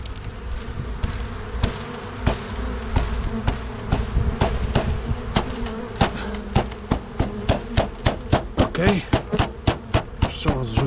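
Loud, close honey bees buzzing during a hive inspection of a honey super, with a continuous drone under repeated sharp taps and knocks on the wooden hive parts, which grow more rhythmic toward the end.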